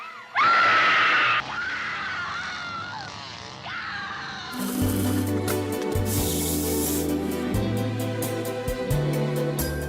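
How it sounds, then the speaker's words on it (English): A loud, sustained scream from a character in the indie horror video game Match bursts out near the start, followed by tense game music with rhythmic low pulses. "Scream for your life."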